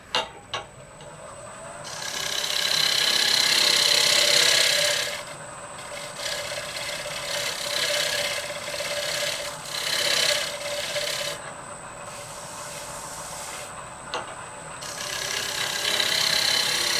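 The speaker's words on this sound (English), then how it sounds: "And that's pretty much it for shear scraping." A scraper held for shear scraping shaves wood spinning on a lathe, producing a steady raspy hiss in long passes broken by short pauses, close and continuous.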